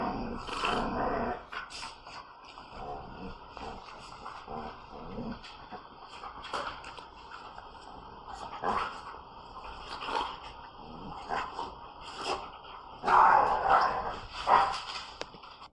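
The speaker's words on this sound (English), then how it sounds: "the larger and older German Shepherd is my female dog Coco" Two German Shepherds, a larger older female and a younger smaller male, growl continuously and let out intermittent barks and yelps in a dominance display, moderately close with some background noise.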